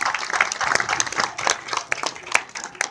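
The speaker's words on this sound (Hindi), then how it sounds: "एक बार मैं चाहता हूं उन लोगों के नाम से जोरदार ताली बजाए" An audience at a village Ramlila performance claps loudly and unevenly. The hand claps are sharp and close together, and the applause stays energetic for the whole stretch with no speech.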